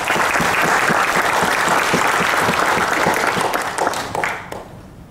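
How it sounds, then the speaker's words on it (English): An audience at a medical talk on ageing eyes claps to welcome a doctor, with dense, steady applause that fills the space and tapers off toward the end. "a big round of applause to welcome Dr."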